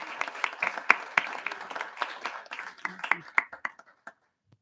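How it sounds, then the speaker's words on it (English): Scattered applause from a modest audience at a school board of education meeting, close irregular claps building briefly and then thinning out into silence. "So let's applaud both of those phenomenal."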